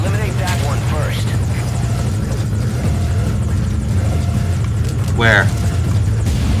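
Helicopter rotor thumping steadily and loud throughout a Metal Gear Solid Ground Zeroes combat mission, with radio voices and game effects layered over the continuous engine drone.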